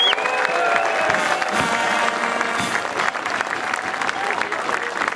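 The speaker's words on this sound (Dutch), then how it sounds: "een verduiveld schoon applaus voor ons steiler ketelgericht" Sustained applause from a crowd honoring the Steyl Kaetelgerich, a mock carnival court, steady and full throughout with a faint tonal whistle at the start.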